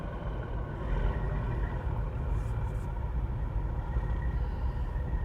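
A loud truck drives just ahead on the road, its engine a steady, heavy low rumble mixed with road and cabin noise from a following Cadillac ATS-V sedan, continuous throughout with no pauses.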